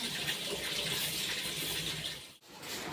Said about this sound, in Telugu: ఇల్లు కడిగి నీళ్ళు మొత్తం ఊడుస్తుంది.